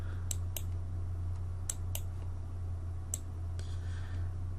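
Sharp mouse clicks in pairs and singles on a computer while erasing pixels in GIMP, close and distinct over a steady low electrical hum, with no talking.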